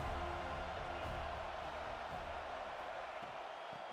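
A college football stadium crowd roars in a steady, dense wash of cheering and noise, loud throughout, as fans try to keep the opposing offense pinned deep in its own end.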